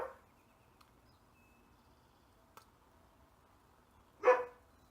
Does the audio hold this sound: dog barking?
yes